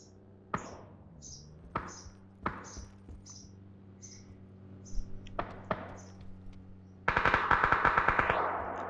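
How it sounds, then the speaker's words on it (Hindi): Gunfire in the PC battle royale game PUBG: a series of single sharp shots spaced about half a second apart, followed by a loud rapid automatic burst near the end, with no talking. "गोलियां चल रही हैं यार।"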